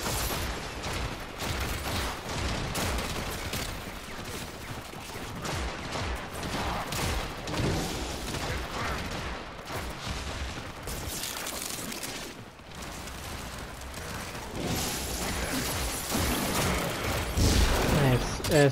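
Weapon fire in Warframe, a fire-type gun shooting in dense, continuous bursts over a busy game soundscape, with people talking throughout.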